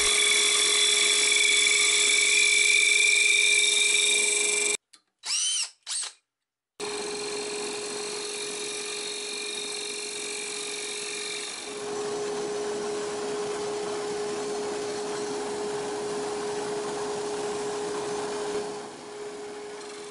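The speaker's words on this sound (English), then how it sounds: "having a good dust collection system here I think is a really good idea" A power tool works mahogany while a dust collection system runs, giving a steady droning whine with a constant hum. It drops out briefly with a few stuttering bursts, then resumes and grows somewhat louder and rougher.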